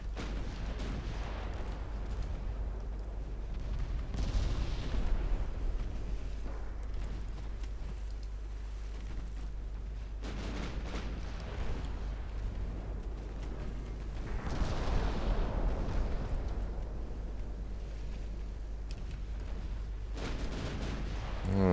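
Naval guns firing in the warship game Ultimate Admiral Dreadnoughts, deep booming salvos rolling out at intervals over a steady low rumble, several heavy blasts spaced a few seconds apart.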